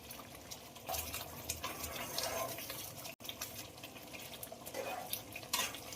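Butter chicken being stirred in a pan after kasuri methi and butter go in, with wet, close scraping and slushy mixing sounds that come in uneven bursts, briefly cut off once midway.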